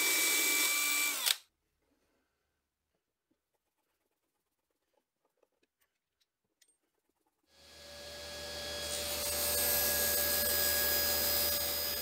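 A power drill drives screws into the wooden frame of a homemade band saw. A short, loud whir comes first, then a long silence, then a longer run that builds up and holds steady, with no talking.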